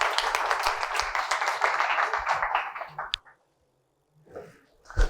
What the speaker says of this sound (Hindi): बहुत सारी तालियां सर स्वाले के लिए